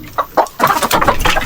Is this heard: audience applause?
no